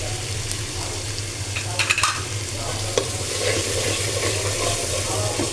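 Turmeric powder sautés into beef curry in a pan, a continuous low sizzle with a low background hum and a few brief scrapes and clinks of stirring, close by.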